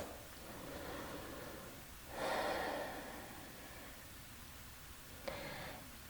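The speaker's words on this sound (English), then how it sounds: "Focus on those exhales." A long, breathy exhale during a morning yoga flow swells near the middle, and a shorter breath follows a few seconds later. Both sit over a faint, steady background hiss, with no talking.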